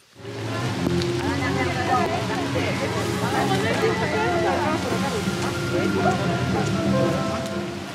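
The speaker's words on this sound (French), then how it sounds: "On va y aller sous la pluie." Rain pouring outdoors on an autumn Halloween evening, a loud steady hiss and patter that runs throughout, with voices talking faintly underneath.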